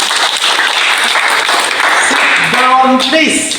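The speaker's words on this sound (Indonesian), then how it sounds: "Oke, tepuk tangan." A room full of people claps in a burst of applause, with voices and a short sung or chanted phrase rising near the end.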